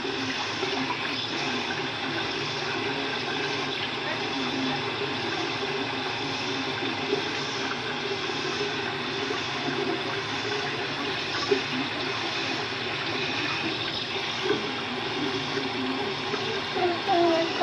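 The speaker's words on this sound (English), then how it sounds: "Turn the water off" A household water tap runs in a steady, rushing stream for the whole stretch, close and moderately loud, with a few small knocks and splashes over it.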